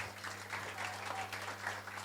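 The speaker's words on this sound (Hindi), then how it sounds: "थैंक यू और जोरदार तालियां" Steady applause from a gathered crowd, continuous and fairly loud through the whole stretch, with a low hum running underneath and no clear talk, at a girls' cricket tour event.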